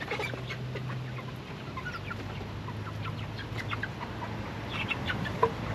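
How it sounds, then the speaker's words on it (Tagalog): Backyard chickens cluck in a garden setting, with scattered short clucks and soft calls near and far over light outdoor ambience and no talking. "Yung cobra na manok namin yun."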